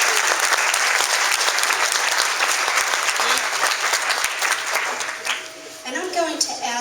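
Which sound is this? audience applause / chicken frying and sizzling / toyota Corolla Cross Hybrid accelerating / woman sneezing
audience applause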